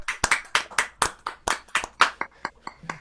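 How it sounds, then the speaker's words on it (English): An audience claps for the performer: about a dozen sharp, close hand claps in a steady, slightly uneven rhythm, like a single person or a small group clapping, with no voices. "The rest of you can applaud for real so we can hear it."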